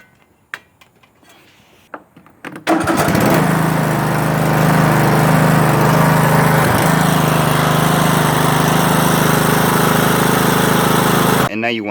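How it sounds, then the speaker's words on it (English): A Craftsman tractor lawn mower engine starts after a few faint clicks and knocks, then runs loud and steady close by for the remainder of the clip before cutting off abruptly at the end. "And now we want to run the engine and check for leaks."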